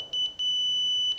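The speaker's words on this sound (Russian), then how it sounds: "он будет пикать прерывисто, но когда мы наведем на центр, он начнет одним сигналом." A handheld electronic detector aimed at a laser beam gives sharp, high-pitched beeps, a few short intermittent pulses at the start and end framing one longer steady tone in the middle, close and clear with no talk.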